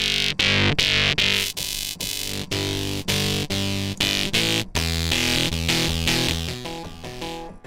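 Multiband distortion from the Unify 1.11.2 plugin crunches a series of loud, chopped synth chords, each hit gritty and saturated, stopping and restarting in a choppy rhythm before fading toward the end.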